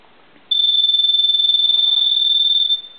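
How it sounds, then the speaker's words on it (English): A restored Gulf-branded gas pump telephone gives a single shrill, warbling electronic ring of about two seconds after a short quiet start, loud and close, with no voices. "I'm going to go ahead and ring the phone."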